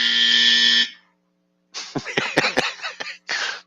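A smoke alarm sounds a loud, steady electronic beep for about a second, then stops. After a pause come short bursts of close household noise and a brief voice, and then the alarm's tone starts again.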